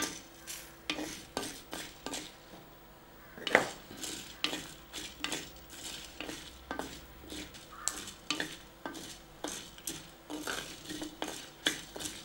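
Coriander seeds, pepper and dried chillies are dry-roasted in a pan. Repeated rhythmic scraping strokes with light rattling of the spices sound close and fairly quiet, with no voices.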